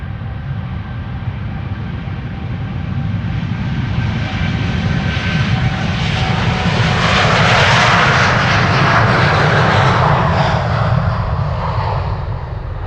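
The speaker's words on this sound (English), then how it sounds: "This is KLM flight 635 to Las Vegas, 787-10 Dreamliner, the PH-BKM." KLM Boeing 787-10 Dreamliner, registration PH-BKM and about a year old, departing Amsterdam Schiphol on a flight to Las Vegas. A loud, close jet roar swells steadily to a peak past midway, then holds as it passes, with no voices.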